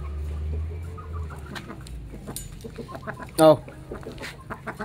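Chickens cluck and squawk intermittently nearby, with one brief loud burst, while a person calls out to them over soft background noise.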